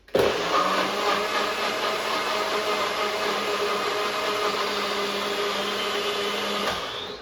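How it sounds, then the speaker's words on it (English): A food processor whirs loudly and steadily as it blends cilantro chimichurri sauce until smooth. The motor starts abruptly, runs at an even pitch for about seven seconds, then winds down. "So now all the ingredients are added to the food processor. And I will blend it until smooth."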